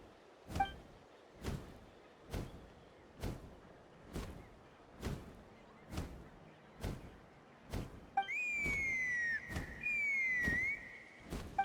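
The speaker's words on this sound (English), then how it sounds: "That sounded like a whistle." Two long, shrill whistles in a video game, the second one wavering, over a series of regular heavy thuds that repeat about every second through the whole clip.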